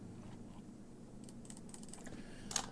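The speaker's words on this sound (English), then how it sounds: "I'm just going to type that." Faint, sparse keystrokes on a computer keyboard, a few soft clicks in a quiet room with one slightly louder tap near the end.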